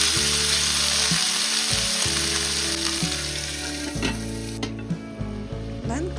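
Lamb meat frying in hot clear oil in a covered pan, a loud, steady sizzle and crackle that continues throughout, with occasional light clinks.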